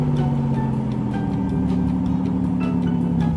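A toy tractor hums along steadily as it rolls away, a constant motor drone with faint clicks and rattles on top, near and moderately loud.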